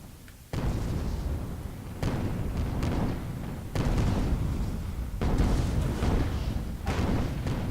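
Heavy long-range cannon fire in a video game, a series of about five deep, booming blasts spaced a second or so apart, each with a rumbling tail that carries into the next.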